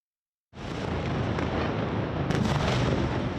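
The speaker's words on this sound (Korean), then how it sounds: "주택가 인근에서 폭발음이 들리자 겁에 질린 주민들은 고통을 호소합니다." Missiles and their debris exploding near residential homes in an Israeli city at night, heard as a loud, continuous roaring rumble of blasts that begins abruptly and holds steady, with a sharper burst partway through, no voices.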